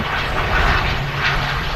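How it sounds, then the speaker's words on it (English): An Aer Lingus Regional airliner touching down at Manchester Airport, heard as a loud, steady engine roar with broad rushing noise, close and constant over a short stretch, with no talk. "We've got the Aer Lingus Regional touching down now."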